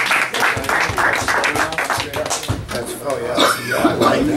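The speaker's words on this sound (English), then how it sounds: "give yourself a nice round of applause" A crowd applauds with dense, continuous clapping throughout, while voices talk and cheer over it.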